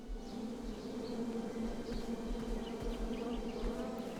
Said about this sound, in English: Starberries framed a serene view. Shame about that buzzing beehive,